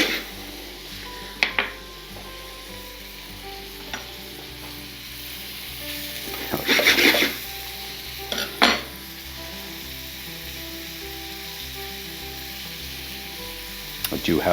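Mushrooms and butter sizzling in a hot pan, a steady crackling fry under a low hum, with a few louder bursts of spattering and utensil scrapes along the way.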